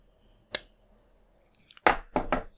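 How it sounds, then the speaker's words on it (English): A Damned Designs Fenrir folding knife snaps shut: one crisp click, a few faint ticks, then a cluster of louder metallic snaps near the mic, with no talking. "So this is the sound of the Fenrir closing."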